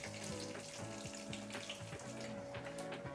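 Spices tempering in hot oil for a Bengali katla fish curry with aubergine and poppy seed, a steady close sizzle and crackle running throughout without a pause.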